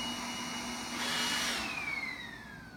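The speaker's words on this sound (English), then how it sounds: "Computer, ask Roomba to start cleaning." A Roomba robot vacuum cleaner runs with a steady close whirr, its motor note swelling for a moment before settling into an even hum, with no voices.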